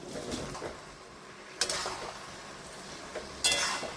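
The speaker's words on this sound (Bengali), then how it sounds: "ভালো করে এভাবে উল্টো পাল্টা করে দিচ্ছি" Fried chicken pieces being tossed and turned with a spatula in a pan of chili chicken sauce, with soft scraping and two sharp clinks of utensil against the pan.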